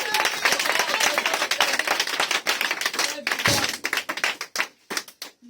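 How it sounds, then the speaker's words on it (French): A congregation claps loudly for Brother Branham at a church gathering, dense applause that thins into scattered individual claps toward the end. "Acclamons très fort pour notre frère Branham"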